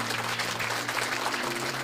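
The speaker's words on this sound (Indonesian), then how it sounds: "Tepuk tangan buat Tuhan Yesus." A church congregation applauds in a dense, even wash of clapping over a steady low tonal hum, moderately loud and unbroken throughout.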